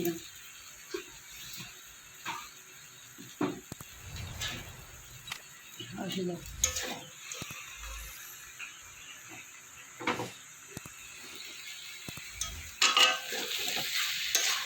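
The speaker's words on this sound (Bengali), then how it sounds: "দিলাম ভালো করে একটু মিশিয়ে নিলাম" Kolmi greens chorchori, a water spinach dish, stirred and mixed in a pan: intermittent scraping strokes over a soft sizzle, close and fairly quiet, with a few louder clatters near the end.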